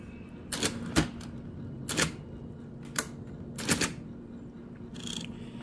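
An IBM Correcting Selectric 2 electric typewriter is typed on: sharp, separate keystroke clacks spaced about a second apart over a constant motor hum, close and clear.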